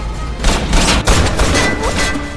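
Dense gunfire from a film shootout between a man and time keepers during a chase, rapid overlapping shots and booms packed together loudly and continuously with no voices.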